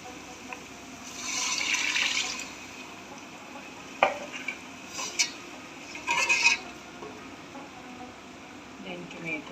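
Ginger, garlic and red chili powder frying in a pan for chicken biryani, with a burst of sizzling hiss as a splash of water goes in, followed by scattered clinks and scrapes of stirring and a second short sizzle.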